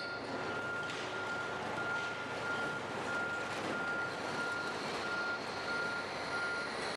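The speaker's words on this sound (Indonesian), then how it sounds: "Wow, ini mobil sanitasi untuk mengangkut sampah teman-teman." Steady, evenly spaced reversing beeps from a toy garbage truck, repeating a single tone over a constant hum and hiss with no talking.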